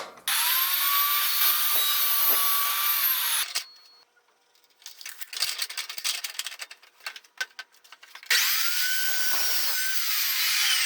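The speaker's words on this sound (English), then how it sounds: "this saw rotates just like a regular miter saw" A rotating miter saw cuts wood in a workshop: two loud, high, whining bursts of the spinning blade with a quieter gap of clatter and handling between them.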